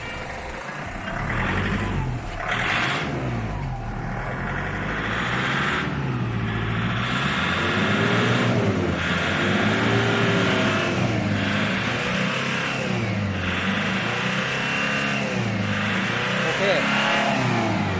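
A Nissan Frontier diesel pickup engine with a faulty injection pump, shaking and smoking, revs repeatedly while stationary, rising and falling in long surging cycles, loud and close, with some talk underneath.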